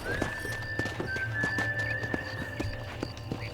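A horse in the Western video game Red Dead Redemption gives a long whinny while its hooves clip-clop rhythmically as it walks, with game ambience underneath.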